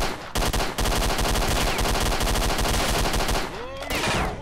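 Rapid, continuous bursts of automatic gunfire in the video game S.T.A.L.K.E.R.: Shadow of Chernobyl, loud and close, with a short pause near the end and a brief whooshing effect.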